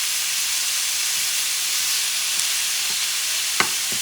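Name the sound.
picadillo cooking in a pan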